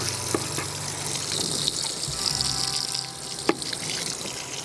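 Water pours steadily into a WonderWash hand-crank laundry washer outdoors, a continuous rushing trickle with a few small knocks, close and moderately loud with no talking.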